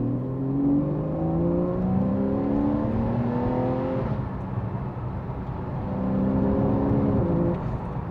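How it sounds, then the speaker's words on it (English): Porsche 911 Carrera 4S (991.1) engine revving hard with a window up as the PDK gearbox downshifts from fourth through third to second, rising engine notes stepping up with each drop, loud and continuous throughout. "I've dropped it from the 4th to the 3rd and then to the 2nd"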